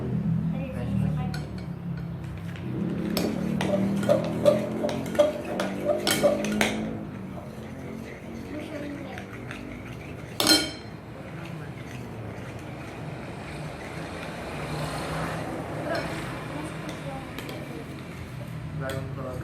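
Orange slime is stirred in a bowl with a spoon, giving a run of light clinks and taps against the bowl, mostly clustered in one stretch, while people talk throughout.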